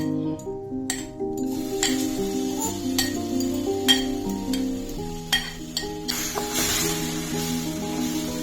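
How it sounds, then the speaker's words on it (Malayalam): Mashed ripe banana dropped into hot ghee in a kadai sizzles and fries steadily, with occasional clinks and scrapes of a spoon stirring against the pan. "അതിന് ശേഷം നമ്മൾ ഉടച്ച് മാറ്റി വെച്ച പഴം ഇട്ട് കൊടുക്കാം."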